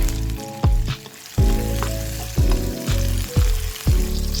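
Chopped tomato hits hot oil in a frying pan while ampalaya (bitter melon) is being cooked, giving loud repeated sizzling bursts, each flaring up then settling into a steady hiss, about five additions in quick succession.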